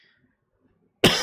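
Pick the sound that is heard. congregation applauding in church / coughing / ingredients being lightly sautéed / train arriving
coughing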